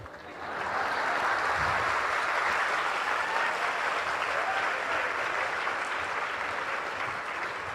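Sustained applause from a large audience at a religious celebration rises quickly within the first second, then holds as a thick, continuous roar of clapping for several seconds before easing slightly at the end.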